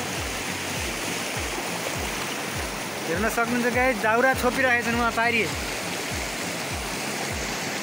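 Floodwaters of the Tinau river rush in a steady, loud broadband roar. Someone talks over it in the middle of the stretch, and low rhythmic thumps recur throughout.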